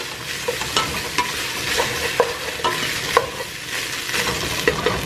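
Onions for pollo saltado sizzle in a frying pan while a utensil stirs them, giving a continuous crackling fry broken by repeated scraping strokes across the pan. It is close up, with no talking.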